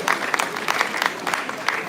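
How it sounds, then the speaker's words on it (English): Crowd applause at a college closing ceremony honoring runners-up, continuous mid-level clapping with distinct individual claps standing out over a diffuse wash, about two seconds long. "Please give a big round of applause."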